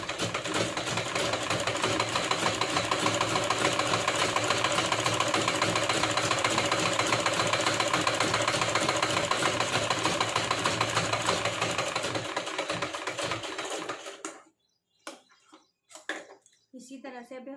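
Sewing machine running a double line of stitches on a fabric sleeve, a steady close mechanical whir that holds for about fourteen seconds before stopping, followed by a few light handling knocks.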